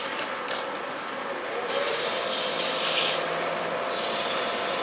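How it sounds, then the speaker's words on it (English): Abrasive rubbing as a wooden bowl is sanded on a lathe turning in reverse, a steady gritty hiss that grows louder partway through and stays continuous and near, with no speech. "so now I am going to change the direction, reverse and sand"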